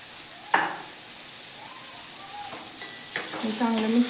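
Horse gram is stirred into a frying masala filling, with a soft continuous sizzle and sharp utensil scrapes and clinks against the pan; a brief voice is heard near the end.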